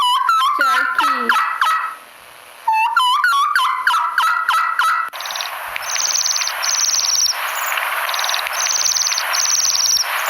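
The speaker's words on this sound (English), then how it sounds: "Turkey." A turkey gobbles loudly and close in rapid warbling, gobbling phrases for a few seconds, followed by a steady shrill insect-like chirring in repeated pulses.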